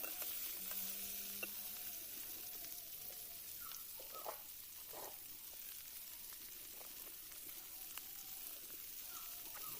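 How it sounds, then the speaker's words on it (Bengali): Pointed gourd (potol) frying in hot oil in a home kitchen, a steady moderate sizzle throughout with occasional stirring clinks and scrapes, no talking. "এবার পটলগুলো আমি আলাদা করে ভেজে নেব লাল লাল করে"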